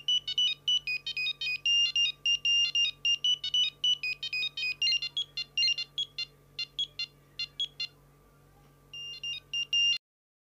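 A mobile phone ringtone plays as a bright, rapid electronic warble in repeated bursts, loud and close, pausing briefly near the end before a final burst cuts off abruptly.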